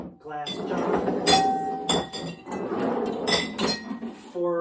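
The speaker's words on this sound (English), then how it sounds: "I'm saving up all of these glass jars" Glass jars saved for worm tea clink and rattle against each other as they are shifted around, a run of bright, irregular knocks and chimes, some loud and close, with someone talking between them.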